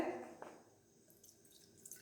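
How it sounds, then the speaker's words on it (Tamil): Water pours briefly into a glass at the start, a short splashing stream that fades into quiet with faint high trickles afterward. "பாருங்க, தண்ணி ஊற்றுறேன்."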